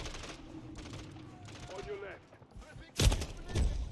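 Gunfire in Call of Duty: Modern Warfare III: a loud burst of shots cracks out near the end, after a stretch of background game ambience with a voice talking underneath.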